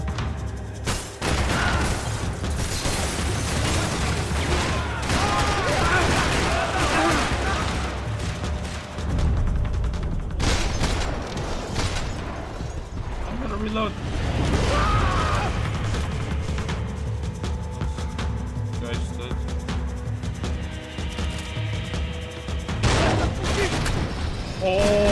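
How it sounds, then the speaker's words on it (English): Shotgun blasts and crashing impacts from a firefight in the favelas of the video game Max Payne 3, loud and dense over the whole stretch, with game clatter and voices mixed in. "Oh my goodness, yeah, the shotgun"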